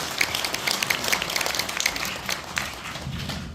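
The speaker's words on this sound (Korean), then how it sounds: "여러분, 다시 한번 박수, 예, 보내주시기 바랍니다." A crowd applauding, scattered claps blending into a light, continuous patter that trails off slightly toward the end.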